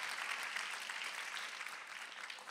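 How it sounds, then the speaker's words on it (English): A church congregation claps during a sermon, a faint, distant, even wash of applause held steadily throughout. "Come on, clap if you're excited to be generous."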